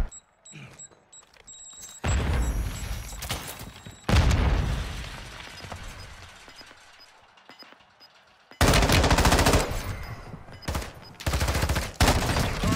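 Gunfire from an M13B rifle in the video game Warzone 2 comes in several loud, dense bursts of automatic fire, with quieter gaps and distant shots between them.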